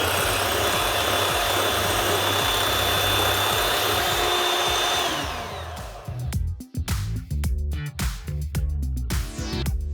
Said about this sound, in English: we're gonna keep on whisking until we get some nice stiff peaks